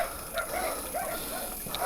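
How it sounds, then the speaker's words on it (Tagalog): Dogs barking while chasing a person on a trail in Silang, a few sharp yips and barks over outdoor noise, moderately close. "Nahabol ako ng aso"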